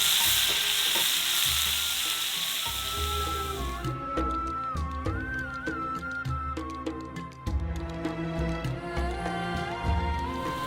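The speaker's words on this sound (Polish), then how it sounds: "Średni ogień i smażymy" Shakshuka frying over medium heat sizzles and crackles in a hot pan, a dense hiss that thins out partway through as soft music-like tones and clinks continue.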